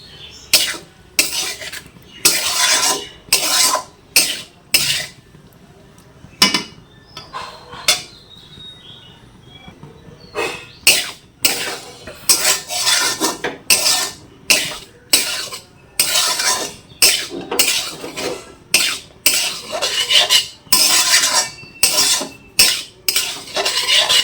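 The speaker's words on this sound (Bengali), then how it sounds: "ভালো করে হালকা জাল দিয়ে ভাতগুলোকে ভেজে নেব" Boiled rice being fried over low heat in a pan for fried rice, with rapid rhythmic bursts of metal spatula scraping and clanking against the pan, loud and close, briefly pausing midway, no speech.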